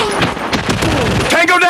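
Rapid gunfire in the zombie shooting video game Fire Strike, loud overlapping shots in a dense, continuous burst with a game voice speaking over them.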